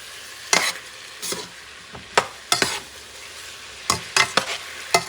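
Fresh tomatoes sizzle in a pan while a utensil stirs and scrapes them, producing sharp, irregular knocks over a low, constant frying hiss.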